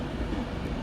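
A Class 185 train pulling out of Manchester Piccadilly station gives a steady, close rumble of engine and wheel noise that holds at an even level throughout, with no talking.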